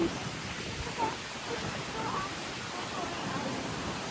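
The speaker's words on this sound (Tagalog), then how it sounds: "So windy naman." Loud, constant wind roars across the microphone, a dense blustery rush with no breaks.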